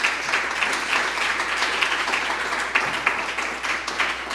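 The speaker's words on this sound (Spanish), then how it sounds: "Recibámosla por favor con un fuerte aplauso." An audience at a talk applauds to welcome a speaker, with steady, dense clapping filling the whole stretch at an even level and no voices on top.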